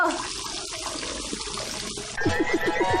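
Water runs steadily throughout, then grows louder and splashier near the end as more is poured, with a faint voice faintly audible underneath.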